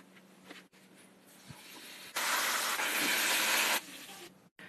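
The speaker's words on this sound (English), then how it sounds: "now let's fry." Marinated fish fries in hot oil, a loud broad hiss and sizzle that surges abruptly to full strength midway, holds steady for over a second, then drops back to a softer crackle with faint clinks.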